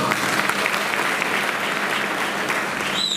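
An audience claps continuously at a Shiv Sena Shinde faction meeting in Sangola, a dense, even burst of applause filling the room throughout.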